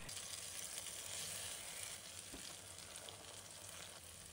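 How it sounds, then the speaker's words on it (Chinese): An egg pancake fries steadily in a covered pan over low heat, a dense, even sizzle running throughout with one brief soft knock near the middle as a spatula turns it. "用铲子小心地给鸡蛋饼翻面"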